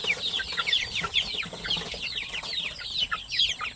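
Chickens and chicks on a poultry farm raised for sale by the kilo, a busy layer of high chirping peeps and clucks repeating steadily throughout, fairly close, with no talk.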